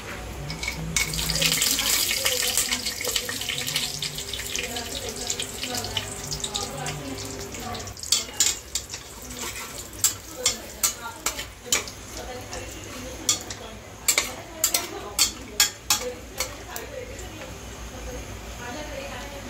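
Cashews and almonds fry in hot oil in a pan for matar paneer pulao: a steady broad sizzle fills the first half, then gives way to a run of sharp, regular spoon-on-pan clinks from close by.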